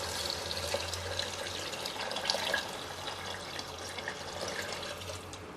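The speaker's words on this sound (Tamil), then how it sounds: "இப்போ தண்ணி ஊற்றுங்க பிரியாணியில்." Water poured from a vessel into a pot of chicken biryani makes a soft, steady splashing trickle that runs on for several seconds, close and fairly quiet.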